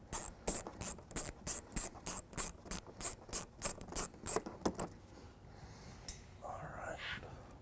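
Hand ratchet backing out two 8 mm bolts on a 2014 Mini Cooper Countryman during a trailer hitch install: a steady run of about fourteen crisp, close clicking strokes, then quieter handling noises.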